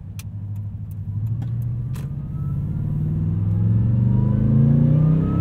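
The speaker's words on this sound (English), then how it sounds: "This has the dealer-installed Toyota Supercharger kit that was offered up until 2015 for the Tundra TRD Pro." A supercharged 2015 Toyota Tundra TRD Pro pickup with a dealer-installed Toyota supercharger kit accelerates hard, its engine drone climbing steadily in pitch and growing louder, with a few sharp clicks near the start.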